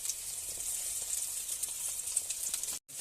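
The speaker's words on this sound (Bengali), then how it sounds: "কড়াইতে দিয়ে দিল কড়াই গরম হয়ে গেছে ধোয়া বেরোতে শুরু করে দিয়েছে" An egg omelette sizzles loudly and steadily in a hot, smoking wok, a dense crackling hiss that drops out briefly just before the end.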